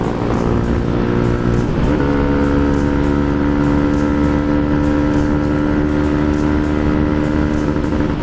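Motorcycle exhaust during a ride: a steady, loud, buzzing engine drone close by, with a brief change in pitch around a gear shift before it settles back into an even roar.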